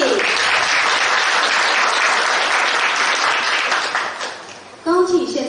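A large audience applauds loudly and steadily at a ceremony honoring police officers, the clapping fading out before a voice speaks at the end.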